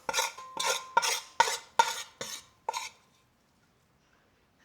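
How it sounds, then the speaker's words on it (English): Deeply browned cooked onions are scraped from a pan into a bowl in seven quick metallic clinks and scrapes, evenly spaced, close and crisp, ending in quiet with no voices. "I'm gonna take these out, just transfer them to a bowl."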